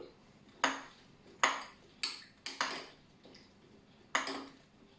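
Cocktail of calvados and freshly squeezed lemon juice being stirred: five sharp, separate clinks of spoon or ice against glass at uneven intervals, close and clear over a quiet background with no voices.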